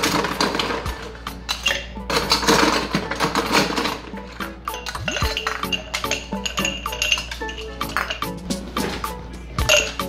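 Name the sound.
ice cubes dropped into a tall glass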